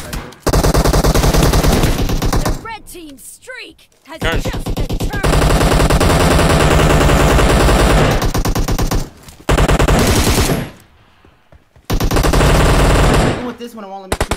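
Dense automatic gunfire from a team deathmatch shooter game rattles in long, loud bursts, broken by a few short gaps, while a voice talks over the shooting.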